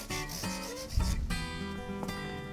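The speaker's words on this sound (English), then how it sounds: "So I'm polishing the edge of the board as well as the ends of the frets." A micro mesh pad rubs along the guitar's fret ends and fretboard edge, a close, steady scrubbing that runs throughout while the strings ring faintly in sympathy.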